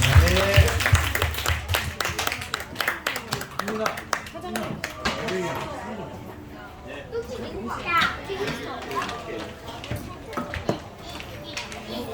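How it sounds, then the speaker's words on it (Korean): A church congregation at a Korean Sunday service applauds in a dense, continuous patter of clapping that rises and falls, with children's voices and chatter mixed through it. "하나님께 영광의 박수 드리겠습니다."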